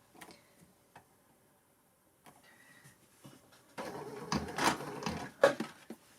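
A Baby Lock Sashiko machine stitches wool at a 4 stitch length: faint scattered ticks at first, then a denser, louder run of mechanical clicking and whirring.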